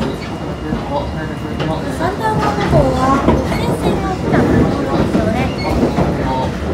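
Continuous rumble and rattle of a Japanese Thunderbird limited express train passing Yamashina, heard from inside, with a person talking over the steady noise.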